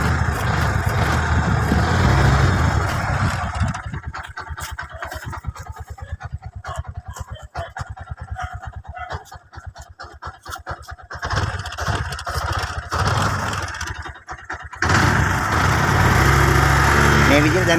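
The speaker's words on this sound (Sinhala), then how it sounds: "ඔයගොල්ලන්ට පේනවාද වාහනේ ස්ටාර්ට් වුණා සද්දෙන්." Nearby, a three-wheeler engine idles on a motorbike battery, its rapid, pulsing putter steady through the middle. Broadband noise that could be voices or handling bookends it at the start and end.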